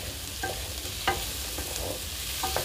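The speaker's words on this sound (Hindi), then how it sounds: "इसको हम फ्राई करेंगे ताकि जो इसका हरापन है वो ख़त्म हो जाए" Papaya sabzi frying in a pan and stirred with a spoon, giving a steady low sizzle with a few faint scrapes spread across the clip.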